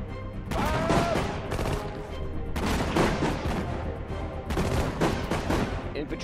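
Dense bursts of gunfire and explosions from the WWII strategy game Sudden Strike 4, Battle of the Hedgerows, loud and continuous with rapid crackling volleys and heavy booms that swell in three waves, with no voices over them.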